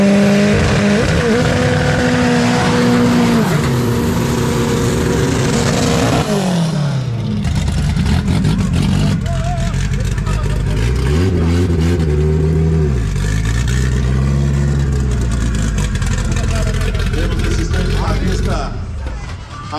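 Street cars in the final of a no-prep drag race at Tarumã, with loud engines revving and accelerating hard down the track, tires squealing, over a babbling crowd.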